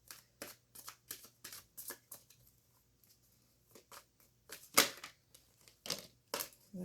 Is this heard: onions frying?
no